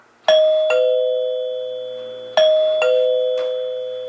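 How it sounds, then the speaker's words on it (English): A rebuilt 1930s NuTone Time Chime doorbell powered at 16 volts AC rings its two-note front-door chime twice, each clear ding-dong struck close by and ringing out in a quiet room. "So we have 2 notes for the front door,"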